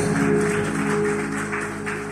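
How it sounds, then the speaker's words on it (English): A church congregation claps hands in praise, a dense continuous wash of clapping with a steady sustained tone running beneath it, moderately loud throughout. "put those hands together and give God a hand clap of praise"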